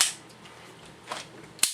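A close, sharp metallic snap from the decocker of an East German Makarov 9x18 pistol, a single clean click at the end after a couple of faint softer clicks and handling noises.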